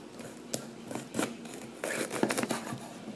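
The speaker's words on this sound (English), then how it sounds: "So I'm just going to take my knife and cut it in half." A kitchen knife slices a bell pepper in half on a board, giving several short crisp scraping cuts and crunches in close succession, near and fairly quiet, with no talking.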